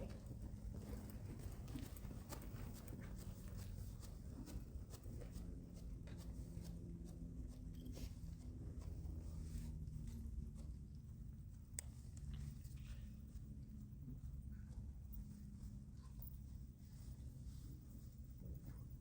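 Steady clip-clop of a Grand Prix horse's hooves moving at an even rhythmic pace, heard at a distance beneath constant background noise.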